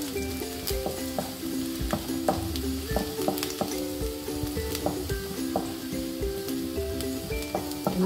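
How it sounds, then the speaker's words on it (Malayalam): Chopped vegetables for radish soup sauté in a hot pan with a steady, close sizzle, broken by the scrape and clatter of a spoon stirring them at a regular pace. "കുറച്ചൊന്ന് വാട്ടിയാൽ മതി. വെജിറ്റബിൾസ് അധികം നമുക്ക് വാട്ടേണ്ട വേവിക്കേണ്ട കാര്യമില്ല, സൂപ്പിനല്ലേ."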